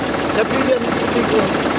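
Tractor engine idling at a farmers' tractor rally in Odha, a loud, steady rumbling chug that fills the short moment, with voices talking over it.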